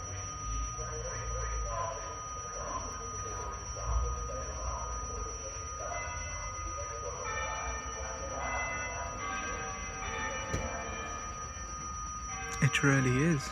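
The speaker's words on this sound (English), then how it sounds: "The church bell and the train bells both ringing at once" At a European railway station, bells ring steadily through a busy, rumbling backdrop of platform noise, with a bright, high metallic squeal near the end.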